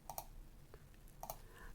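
Faint, close computer keyboard typing, a few quick soft key clicks in small pairs separated by short pauses.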